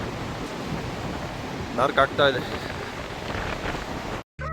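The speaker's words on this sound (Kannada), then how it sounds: "ಹೆವಿ ಗಾಳಿ" Heavy wind blows in the Kinnaur mountains along the Spiti drive, a constant broadband rushing roar. A person speaks briefly partway through and the wind continues around the voice.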